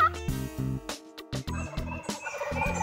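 A wild turkey tom gobbles repeatedly from a roost in steep ridge country. The bursts are loud and close, come in quick succession, and are broken by short gaps with no talking.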